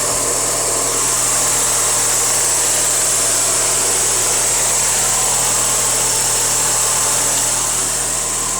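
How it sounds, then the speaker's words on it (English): A Rover 214 Cabriolet's 1.4-litre 16-valve twin-cam petrol engine idles steadily, a smooth continuous hum with even, close-up running and no talk over it. "That's the little 1400 16 valve twin cam petrol unit."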